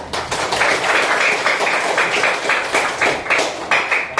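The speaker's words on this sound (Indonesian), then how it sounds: "udah tepuk tangan semuanya." Schoolchildren clapping their hands together in rhythm in a classroom, loud, close and steady, with the group's claps landing in repeated even beats.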